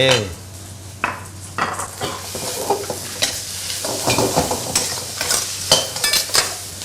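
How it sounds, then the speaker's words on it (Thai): Squid and long beans are stir-fried in a wok with yellow chili, giving a loud sizzle broken by repeated scraping clatters of a spatula against the metal at an uneven, busy rhythm. "เอาปลาหมึกมา ใส่ถั่วฝักยาวผักใบทีหลัง"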